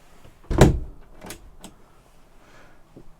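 A concertina door inside a 2004 Fiat Rapido 963 motorhome slides along its track, with a firm clack near the start followed by a couple of lighter rattling knocks as the folds move across.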